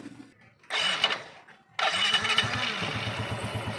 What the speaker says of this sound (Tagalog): napa-start na natin yung ating makina